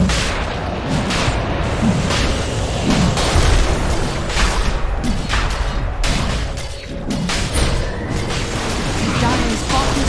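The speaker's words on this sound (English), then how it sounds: "Dire's bottom tower is under attack." A Dota 2 match with a tower under attack: dense, loud clashing of booms, bursts and impact hits in continuous game battle noise, with repeated thumps throughout.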